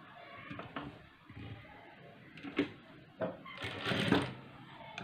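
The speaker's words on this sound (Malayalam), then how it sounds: "ഇനി ഇതൊന്ന് മറച്ചി വെച്ച് ഈ എൻഡ് കൂടി ഒരു സ്റ്റിച്ച് അടിച്ച് വിടുക" A sewing machine runs in short bursts as it stitches the end of a cross-cut blouse seam, with a few pauses and handling knocks between runs and a louder stretch near the end.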